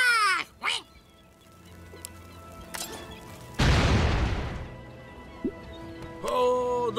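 A single loud bomb blast booms in the Shrek Forever After video game, a sudden burst that decays over about a second amid cartoonish quacks and game sounds.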